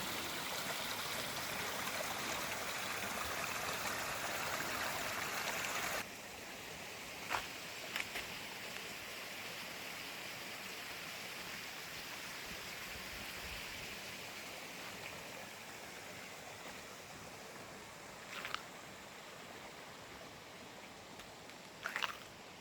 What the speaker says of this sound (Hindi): ये जो है ना ये पानी जा रहा है